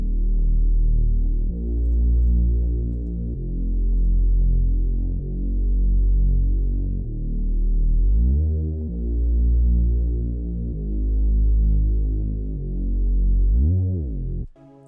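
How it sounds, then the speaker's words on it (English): Long, deep bass notes in a smooth R&B beat swell and fade in a steady repeating pattern, loud and droning, with brief rising slides near the middle and end and no voices over them. "We have added a longer bass too, just to add for a different variation"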